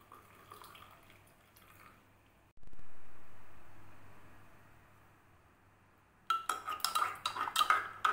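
A spoon clinks and scrapes quickly against a cup while stirring milk, honey and crushed raw turmeric together. The stirring comes at the end, after quieter handling sounds and a brief pouring hiss.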